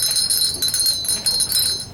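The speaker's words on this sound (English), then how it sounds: "I shook the bell." A sleigh bell is shaken repeatedly, giving bright, loud jingling in uneven bursts for about two seconds with no voices.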